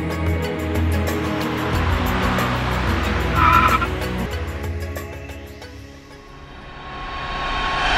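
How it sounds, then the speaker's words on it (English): A SKODA Yeti drives over rough, testing off-road terrain, its engine note rising and falling with tire noise and brief skidding, loud and close, easing down then building again. "Making their way through some testing terrain in the SKODA Yeti are Raymond, Satya and Rajendra"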